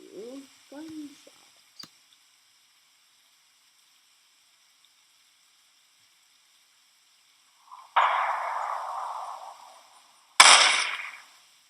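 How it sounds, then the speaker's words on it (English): Two sharp gunshots from a free sound-effects library play back, the first with a hissing, noisy tail that fades over a couple of seconds, the second a brighter crack decaying quickly, each preceded by brief soft sounds and silence. "Let's do gunshot."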